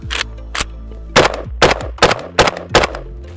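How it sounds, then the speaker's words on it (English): An AK105 rifle, tested after being frozen, fires several sharp gunshots in an uneven sequence of about eight loud reports, each with a short outdoor echo. "Next up, we have the AK105."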